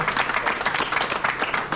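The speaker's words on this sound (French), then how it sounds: "je vous applaudis bien fort" Audience at a village bread festival in La Mure-Argens applauds the volunteer bakers, a dense, steady patter of many hands clapping at moderate distance, short and continuous.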